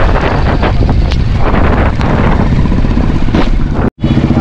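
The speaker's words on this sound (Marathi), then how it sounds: "पावसाच्या रिमझिम सरी यायला लागलेल्या आहेत आणि जोरात एक वारा सुटलेला आहे" Strong wind blows during light rain on the Murbad road outside Karjat, a loud, continuous roaring buffet close on the microphone that swells in gusts and cuts out briefly near the end.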